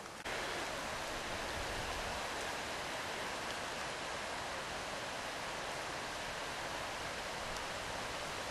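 A steady broadband hiss of wind through woodland foliage in North Yorkshire, leaves rustling continuously with no distinct gusts or other sounds.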